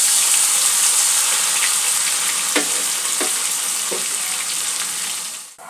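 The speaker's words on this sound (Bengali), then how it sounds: "পেঁয়াজ আর টমেটোটা একটু ভেজে নেব।" Onion and tomato sizzle steadily in hot oil in a pan while a Bengali bhetki fish chorchori is cooked, with a few soft stirring knocks over the continuous close frying hiss.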